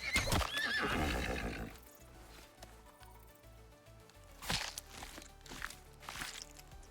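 A horse in the video game Icarus whinnies loudly at the start, then hooves clip-clop and footsteps patter more faintly, with a few sharp sounds later on.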